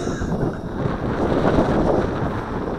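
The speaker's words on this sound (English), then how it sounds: "this is the wind blowing it back" Wind blows against an Eachine Wizard X220 FPV racer drone in flight outdoors: steady, loud, broadband wind buffeting and rumble on the microphone, continuous for the whole stretch, with no speech.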